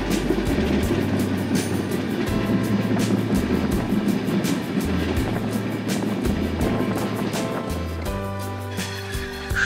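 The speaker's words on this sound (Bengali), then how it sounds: "সময় বেজে 10টা 5 মিনিটের দিকে আমরা প্রবেশ করতেছি পঞ্চগড় জেলার পঞ্চগড় রেলওয়ে স্টেশনে" A Panchagarh Express train rolls into Panchagarh railway station, a continuous loud rumble with rhythmic wheel clatter over rail joints and a rattling carriage interior, steady throughout and easing slightly toward the end.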